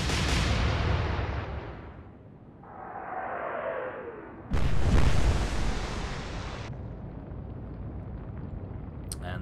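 The German battleship Scharnhorst fires its guns in the naval video game Atlantic Fleet: a booming salvo, a whistling shell in flight, then a second loud, sharp blast with a lingering rumbling tail.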